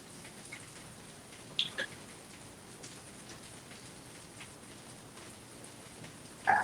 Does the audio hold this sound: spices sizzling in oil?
no